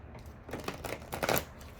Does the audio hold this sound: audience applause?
no